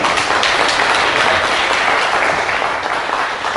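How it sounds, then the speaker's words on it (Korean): An audience at a lecture on winning elections applauds, producing a dense, steady wash of clapping at moderate loudness that continues without pause. "박수 부탁드리겠습니다."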